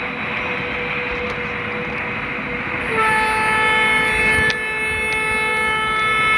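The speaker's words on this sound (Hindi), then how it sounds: "आपको शायद से हॉर्न सुनाई दे रहा होगा" A passenger train horn in Trainz Simulator sounds in a steady, sustained blast over continuous rumbling engine noise, loud and close, with no talking.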